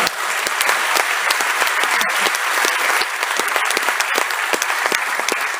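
Loud, close audience applause at a 75th birth anniversary gathering in Aurangabad, dense continuous clapping from a large crowd filling the whole stretch without voices.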